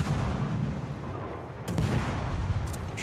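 Naval gunfire in the World of Warships video game, heavy booming artillery rumbling continuously, with sharper shot bursts near the middle and at the end.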